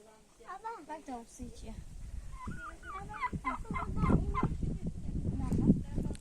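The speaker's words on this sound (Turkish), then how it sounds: "Burada hindileri var, tavukları var." A flock of turkeys gobbling with clucking chickens mixed in, fairly close, while people talk over the birds at a rural mountain pasture.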